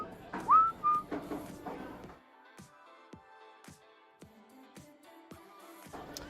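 A person whistles a tune at a pool tournament. A few bright sustained notes come first, then a quieter stretch of short, sliding whistled notes with light background clatter and no speech.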